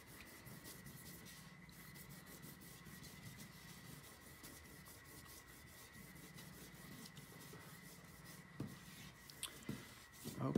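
An eraser rubs steadily back and forth over pencil marks on paper in a concept sketch, close and soft, with a few louder scrubbing strokes at the end.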